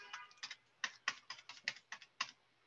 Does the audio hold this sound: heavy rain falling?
no